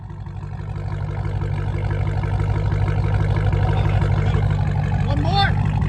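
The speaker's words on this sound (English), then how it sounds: "Let's hear the idle." An 840 hp Dodge Demon idles through its exhaust with a deep, steady, close rumble that swells slightly over the first second and then holds even.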